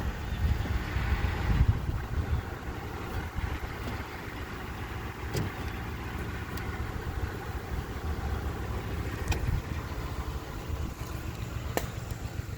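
A car engine idles steadily while warming up after a tune-up with new spark plugs, ignition coils, oxygen sensors and fuel filter, a continuous low rumble close by with a few faint clicks and no talk.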